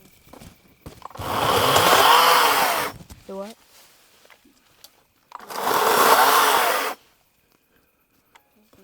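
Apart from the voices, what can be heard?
chainsaw running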